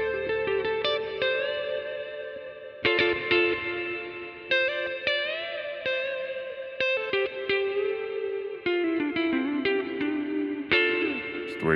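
Electric guitar through a NUX Mighty Plug Pro set to hall reverb with heavy delay: clean picked notes and chords ring out and trail into long echoing repeats, phrases starting and stopping with spacious ambient tails, no talking.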